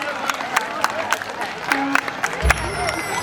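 Scattered clapping from an audience at an outdoor Ramleela performance, with sharp irregular claps over crowd murmur and talk, and a low thump near the end.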